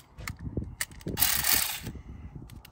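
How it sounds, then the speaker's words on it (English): An electric ratchet loosening the battery bolt on a 2016 Kia Sportage: a few mechanical clicks, then a short whirring buzz of the motor for about a second, followed by more light clicks, close by. "I got an electric ratchet here."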